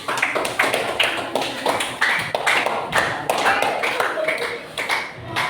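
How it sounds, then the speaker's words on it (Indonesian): Audience at a deep-learning teaching session claps in a rhythmic, somewhat sparse pattern, individual hand claps distinct and close, with a voice briefly audible among them. "Sekali lagi tepuk tangan."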